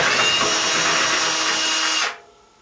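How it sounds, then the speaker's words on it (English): A power drill whirs steadily for about two seconds while loosening screws on a Whirlpool dryer, loud and close, then winds down and stops. "Loosen up these screws and remove this one."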